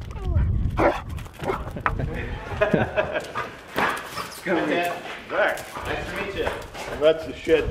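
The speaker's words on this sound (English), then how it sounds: "That's the shed dog." A hunting shed dog barks and whimpers excitedly in short yips and bursts, close by, with people talking over and between the sounds throughout.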